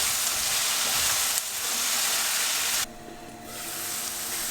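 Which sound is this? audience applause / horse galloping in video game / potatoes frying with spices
potatoes frying with spices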